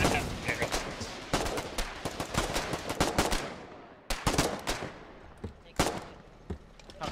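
Battlefield gunfire in the war game Foxhole during a counter offensive at Mara: loud, irregular bursts and single cracks of rifle and machine-gun fire, some close, others further off, with brief lulls and voices talking in between.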